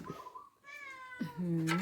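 A cat meows twice nearby in a kitchen while a Lao-style salad is being made, the second meow longer and rising, with a person's voice faintly around it.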